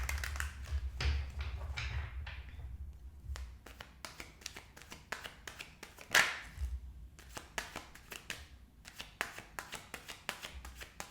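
Tarot cards being shuffled in quick riffling bursts and taps, close by, with short pauses between rounds and no talking.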